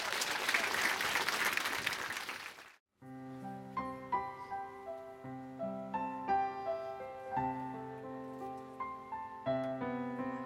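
Audience applause for a singer on stage at an outdoor summer TV concert, a burst of clapping lasting a few seconds that cuts off abruptly before instrumental music begins.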